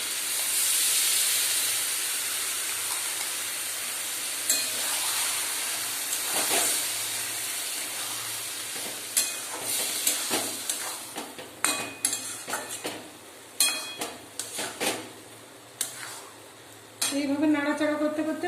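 Spice masala and baby corn stirred in a pan for palak paneer, with steady steam hiss and sizzle underneath and a series of sharp spoon scrapes and clinks against the pan in the second half, close and moderately loud.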